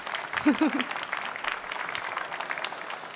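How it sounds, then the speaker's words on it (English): Audience applause at the Hydrogen + Fuel Cells Europe 2023 conference as a guest leaves the stage, a steady wash of clapping with a brief louder swell near the start, fairly even throughout. "Please give a round of applause for Anna."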